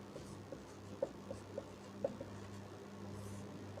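Chalk or marker strokes on a board during a lesson, a few light, scattered taps and scrapes at a moderate distance over a steady low room hum.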